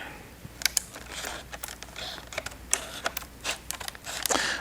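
A blade slices the top off a cardboard Milwaukee M12 light product box, making a quiet, close series of irregular crackling snips and clicks.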